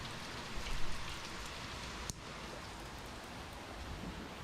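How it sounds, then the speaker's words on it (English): Soft, steady hiss of light rain falling outdoors, faint and even, with a brief click partway through. "It's raining a little bit"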